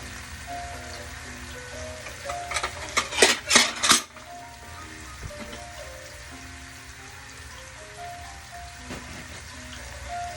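Plates and dishes clatter in a home kitchen while a meal of pork chops and plantains is served, a quick cluster of ceramic knocks and scrapes followed by quieter handling and background hum.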